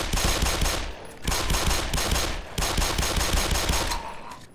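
Sustained automatic weapon fire in the shooter game Black Mesa, loud rattling bursts in three long volleys separated by brief gaps, dense and close with no speech.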